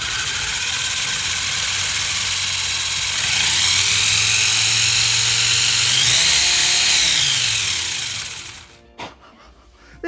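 A WLToys 144001 RC buggy's electric motor revs on a bench stand, whining steadily, then climbing to a louder, higher-pitched scream at full throttle before spinning down abruptly near the end. No one speaks.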